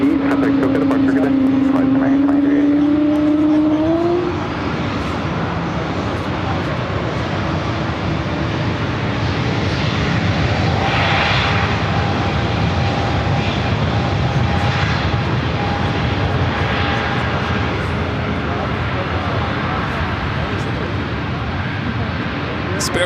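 A jet airliner takes off from runway 24 left, its engines giving a steady, broad roar throughout, with a tonal whine that fades early on and radio chatter heard over the noise.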